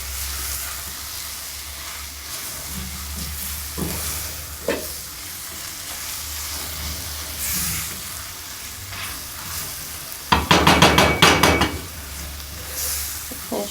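Egg curry sizzles steadily in a pan as curry powder is stirred in, the frying hiss broken by a few soft scrapes and then a quick burst of clattering utensil strokes against the pan near the end.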